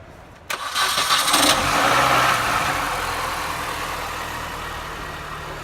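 A small car engine cranks briefly and catches on the first turnover with a NOCO GB150 lithium jump starter attached, then settles into a steady, fairly loud idle.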